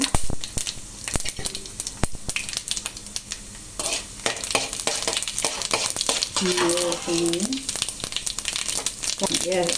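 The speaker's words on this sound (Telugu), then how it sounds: "ఎండుమిరపకాయ, ఆవాలు, జీలకర్ర, శనగబేళ్ళు, ఈ 3 వేసాను." Dried red chili, mustard seeds, cumin and chana dal tempering crackles and sizzles in hot oil for an okra fry, with steady frying hiss, scattered pops and stirring scrapes throughout; a voice speaks briefly partway through.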